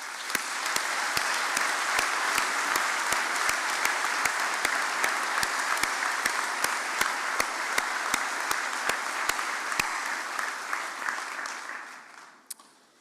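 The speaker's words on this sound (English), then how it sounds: "we should probably give them all a big round of applause" At a Queen's University Belfast summer graduation ceremony, a large hall audience claps in a dense, even roar, with a few sharper claps standing out, holding steady for about eleven seconds and then fading quickly to a final lone clap.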